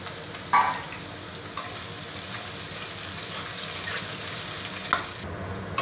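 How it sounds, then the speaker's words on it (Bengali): Carrot strips fry in a pan on a medium gas flame, making a constant soft sizzle with occasional sharp clicks and scrapes from stirring. "প্রথমে আমি গাজরটা দিয়ে দিলাম"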